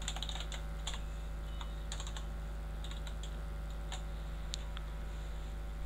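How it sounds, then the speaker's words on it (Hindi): Keys tapped on a computer keyboard while entering a password at a login page, a steady run of light clicks and taps over a low constant hum, with no talking. "यहाँ पासवर्ड टाइप करते हैं"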